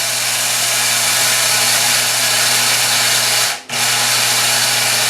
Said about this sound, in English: Periodically give it a shake, just to make sure that the blades on the bottom are getting to touch and grind up everything.